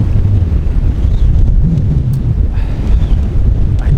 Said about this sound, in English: the wind's my main problem here